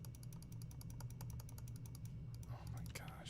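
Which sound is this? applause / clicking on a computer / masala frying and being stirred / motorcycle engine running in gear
clicking on a computer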